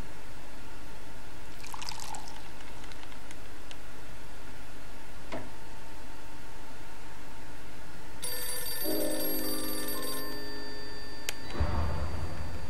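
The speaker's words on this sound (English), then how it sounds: "Answer the phone." An old-fashioned telephone rings in the crime game Blues and Bullets, its bright trilling bell starting late and lasting a couple of seconds over a steady background hum and soft ambient ticks, with no talk.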